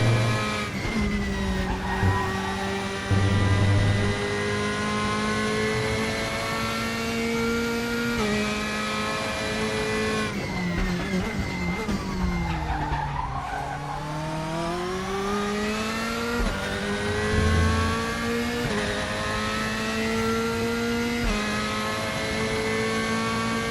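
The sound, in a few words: race car engine on a lap, video game RaceRoom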